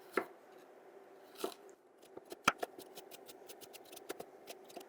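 A knife slicing carrots and celery into thin round discs on a cutting board: a run of crisp, irregular chopping clicks and taps, close and moderately loud, with quiet gaps between strokes.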